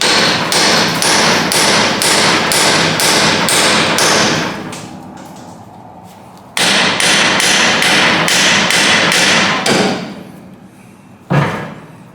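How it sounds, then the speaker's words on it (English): Rapid, loud metallic hammer blows striking a car suspension knuckle on a 1955 Oldsmobile, two fast runs of evenly spaced hits with short ringing pauses, then a single final strike. "Generally you can just hit that knuckle right there."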